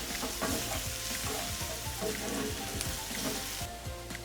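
Tomato paste and green chilies frying in a pan while being stirred, a steady close sizzle with repeated scraping strokes of the spoon, no talking.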